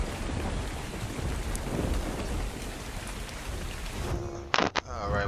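Heavy rain pours steadily during a thunderstorm in the video game ARK, a dense, close hiss of drops with thunder rumbling beneath, broken near the end by a few sharp clicks.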